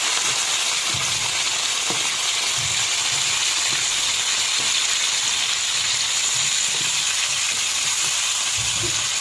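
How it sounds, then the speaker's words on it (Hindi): Chicken pieces frying in hot oil in a pan over a medium flame, a steady loud hiss and sizzle throughout with faint stirring knocks and clinks beneath. "ऑयल गर्म हो गया है, अब हम इसके अंदर चिकन पिक कर देंगे।"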